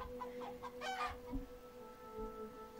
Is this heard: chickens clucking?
yes